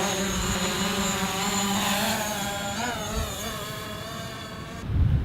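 A DJI Mavic or Phantom camera drone flies overhead, its propellers giving a steady, high-pitched buzzing whine that holds at a fairly even loudness, with a brief low thump near the end.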